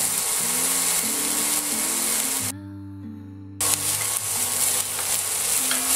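Shallots fry lightly in a pan for a sauce with olives and cherry tomatoes, a steady close sizzle with stirring, briefly dropping to near silence midway before resuming, with a low hum throughout.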